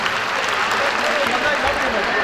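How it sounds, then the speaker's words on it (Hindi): An audience at a school silver jubilee convention in Islamabad claps loudly and continuously, a dense wash of applause filling the hall with no break. "हाथ ऊपर करके भरपूर अंदाज में तालियां होनी चाहिए."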